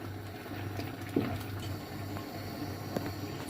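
Sauce simmering in a pot, a soft steady bubbling hum with a faint pop or two, heard alone at low level while a Turkish mixed fried-vegetable dish is being made.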